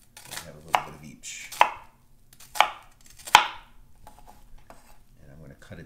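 A kitchen knife cuts an onion into strips on a cutting board, four or five distinct sharp chops spaced about a second apart, close and fairly quiet, with softer scraping between them.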